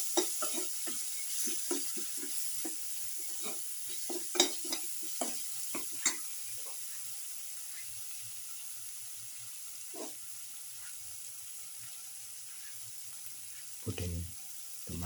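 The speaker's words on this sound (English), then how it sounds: "Saute thoroughly saute mix." A garlic basil mix for a lamb casserole is sautéed in a pan: quiet, scattered scrapes and clinks of stirring over a faint steady sizzle, with one louder clatter near the end.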